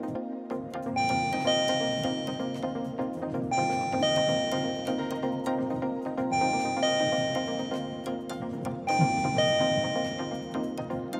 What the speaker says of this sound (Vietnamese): Khi hai dây này chạm với nhau thì bộ chuông cửa sẽ kêu hai tiếng liên tục đinh đong